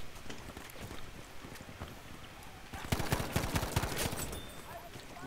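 Rapid bursts of Battlefield V gunfire crackle at a distance, then grow denser and louder midway through as a volley of sharp shots, with wind-like noise underneath and no clear speech.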